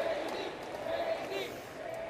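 Crowd at a political rally for J.D. Vance, Donald Trump's running mate, chanting his name as a steady, blended roar of many voices at a moderate distance.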